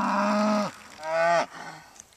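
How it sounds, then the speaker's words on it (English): Cows bawl during fenceline weaning, two long loud moos in a row followed by a fainter, shorter call, close by with no talking. "They'll go along the fence and stand and bawl for quite a while"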